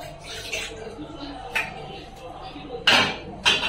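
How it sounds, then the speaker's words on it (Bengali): A kadai (wok) coated with leftover spice paste is rinsed with water, giving a low wet background with a few sharp metallic clatters and splashes, near and moderately loud. "এবার একটু জল দেবো এতে, কড়াটাও ধুয়ে দিই।"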